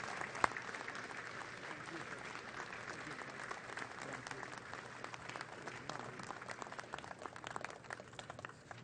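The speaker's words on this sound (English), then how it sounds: "may I ask you one final time, a round of applause, please" Steady applause from an audience at the 2015 Saratoga Red Jacket ceremony, a horse racing event honoring racehorse owners, sustained and fairly distant with scattered voices underneath.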